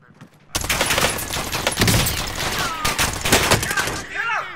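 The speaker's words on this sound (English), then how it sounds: "we're about to go into a gunfight." A gunfight in the dinosaur shooter D.I.N.O Warfare breaks out suddenly after a quiet moment, with a loud, crowded barrage of overlapping rifle and machine-gun shots from several weapons, close and continuous for about four seconds, with faint calls toward the end.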